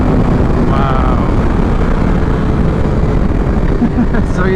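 BMW S1000 RR motorcycle with a BrenTuning Stage 1 tune, a 2021 M Package, pulling hard in third gear from 4,000 RPM in dynamic mode: a loud, continuous engine roar with heavy wind rumble throughout.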